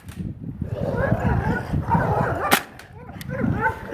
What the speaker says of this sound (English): Don't worry about the dogs, they're just playing.